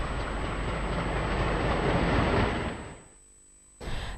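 A freight train runs on the Salem–Karur broad gauge railway, a loud steady rolling roar of wagons that drops away abruptly near the end before a brief return, with no talk.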